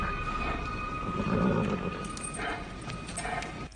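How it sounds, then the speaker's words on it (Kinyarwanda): A horse whinnies loudly and close by, then scattered hoof thuds and a few more short snorts and whinnies follow. Faint background noise lies beneath, with no talk. "Ifarashi maze gutuza."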